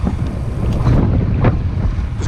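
Wind roars across the microphone while cycling into a headwind, a loud, continuous buffeting with gusty swells and no talking.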